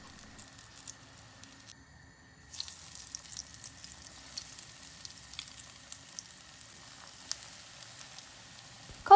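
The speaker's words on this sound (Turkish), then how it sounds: "Kalan patlıcanları kızartmaya devam ediyorum." Eggplant slices fry in hot oil in a home kitchen, giving a faint, steady crackle and sizzle that picks up slightly midway, with a brief clatter right at the end.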